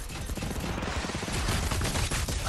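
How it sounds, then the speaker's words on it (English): Dense, rapid gunfire in the video game Fortnite, sustained bursts of automatic shots that are close and loud throughout. "And I'm getting shot as well."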